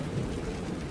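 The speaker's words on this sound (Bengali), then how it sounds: "সকাল থেকে আজ বৃষ্টি হয়ে চলেছে।" Steady, dense rain fills an animated Bangla horror cartoon scene, a continuous even hiss of falling drops with no break or voices.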